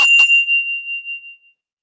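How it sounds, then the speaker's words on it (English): A single bright bell ding rings out once, struck cleanly and left to decay alone into silence over about a second and a half, its pure tone lingering after the initial clang. "Ding dong."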